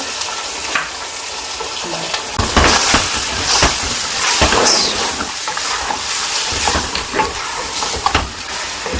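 Beef or mutton liver sautés with black pepper in a hot pan, a steady close sizzle broken by bursts of stirring and scraping that continue throughout.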